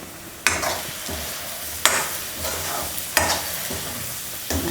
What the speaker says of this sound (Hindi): ये बचा हुआ मसाला ये डाल के और थोड़ी देर के लिए और सेकूंगी